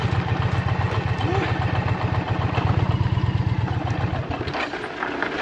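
A motorcycle engine idles loud and near with a fast, steady pulsing thump while being parked on a dirt trail in the Serra do Caramulo, then the rhythm shifts and loosens near the end.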